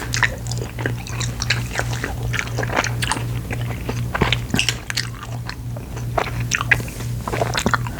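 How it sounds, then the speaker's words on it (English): Bubblegum chewed right at the microphone in a continuous stream of wet, crunchy smacks and squishes over a low steady hum. "with some bubblegum chewing."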